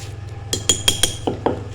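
Pomegranate seeds (anardana) being pounded for chutney, a series of about seven sharp hard clinking strikes in an irregular rhythm, close and fairly loud over a low steady hum.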